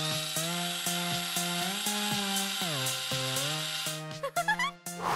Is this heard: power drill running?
yes